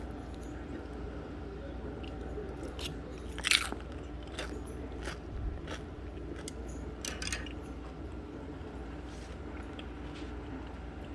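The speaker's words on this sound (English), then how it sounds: "And wait till you hear the crunch. The crunch is amazing." Homemade spring rolls being bitten and chewed close up, with a sharp crunch followed by a run of crisp crackling bites over steady low kitchen noise.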